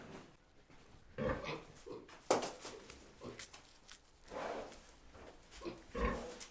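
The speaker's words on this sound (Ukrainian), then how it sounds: "а я вам покажу наших свинок" Pigs grunt and snuffle quietly in short, irregular bursts, with soft shuffling and patter around them.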